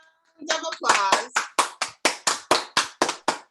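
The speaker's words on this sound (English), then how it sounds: "let's give a Kiddonomics round of applause" A small group claps in a short round of applause, starting as a brief flurry of overlapping claps and then settling into about ten slow, evenly spaced, fairly close hand claps.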